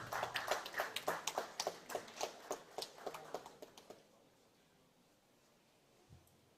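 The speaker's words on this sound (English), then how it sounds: "Let's welcome her with a round of applause too." A small audience at a youth democracy forum claps to welcome a law lecturer onto the panel. Brisk, fairly faint clapping runs for about four seconds, then thins out and dies away into quiet room noise.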